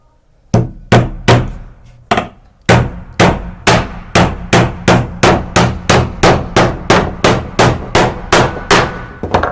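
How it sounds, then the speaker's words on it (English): A small pink hammer pounds a nail into a wooden bench from the other side, a few spaced strikes giving way to a fast, steady series of loud, ringing metallic hits close by. "And then we're going to do it on the other side."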